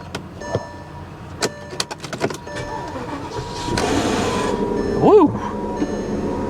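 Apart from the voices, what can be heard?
1970 Cadillac Coupe DeVille engine starting with starter issue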